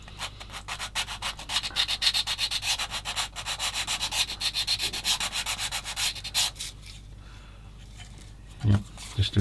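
Quick, close rasping strokes of a new sanding stick work over a plastic 1/35 scale landing craft model kit, steady for several seconds before thinning out, with a few soft handling knocks at the end.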